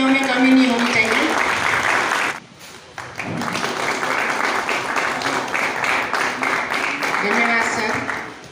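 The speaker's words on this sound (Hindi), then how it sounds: "तालियों में कमी नहीं होनी चाहिए।" Audience applause at a Gorkha community donation event in a Durga temple in Raipur, handing out football kits; broad steady clapping throughout, dipping briefly midway, with voices and some talk mixed in.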